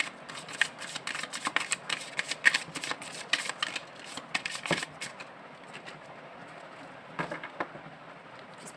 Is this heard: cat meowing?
no